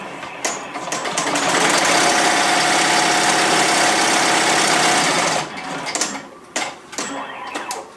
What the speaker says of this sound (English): I want to see the machine doing the stitch out.